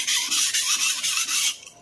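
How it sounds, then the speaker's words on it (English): A stainless steel santoku kitchen knife is drawn across a sharpening stone in quick, rhythmic rasping strokes, about six scrapes in under two seconds, close and clear with no talking. "Sharpening the right side of the knife."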